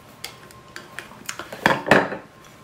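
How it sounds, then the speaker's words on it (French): A coffee stirrer scrapes green eyeshadow into white liner, giving a string of small clicking scrapes that grow into two louder, grittier strokes near the end, close and alone. "je gratte un peu du fard vert dans le liner blanc"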